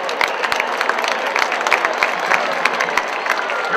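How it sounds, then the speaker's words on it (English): Audience applause for a high school marching band fills the air as a steady, dense wash of clapping, with a few sharper claps standing out throughout. "Let's have another round of applause for these wonderful high school student musicians"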